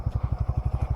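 A motorcycle engine runs at close range, its exhaust thumping in an even, rapid pulse with a clattering edge, steady throughout the brief moment.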